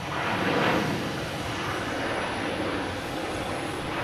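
A Delta airliner from New Orleans at Boston Logan Airport gives off a broad, steady jet-engine roar, loud and close, swelling slightly early on and then holding even, with no talking.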